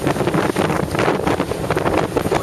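Strong wind roars and buffets the microphone aboard a sailboat off the New Jersey coast, a loud continuous gusting rush with no voices.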